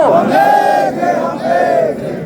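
A big crowd at a political protest rally in Kargil shouts a slogan together, loud and unified, with voices swelling and dipping in rhythmic repeated phrases.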